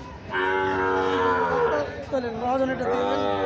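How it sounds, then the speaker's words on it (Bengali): Pakistani Shahiwal breed calves at the Bamudi cattle market let out a loud, close, drawn-out moo that wavers and breaks into a second lower call. "এগুলো কিন্তু সবই পাকিস্তানি শাওয়াল জাতের বাছুর"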